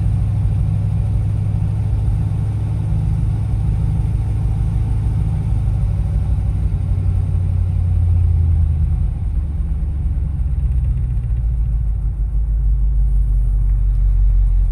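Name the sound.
1978 K5 Blazer engine idling after -25C cold start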